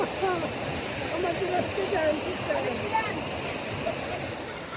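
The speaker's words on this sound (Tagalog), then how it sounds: "Ayan ang Royal Lake Falls." Rolly Lake Falls, a waterfall beside a camping trail, gives off a steady broadband rushing roar with constant loudness. Birds chirp faintly over the water.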